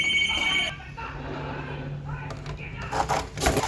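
A phone ringtone chirps briefly at the start and is followed by crinkling and handling noises, while people speak in Hindi throughout.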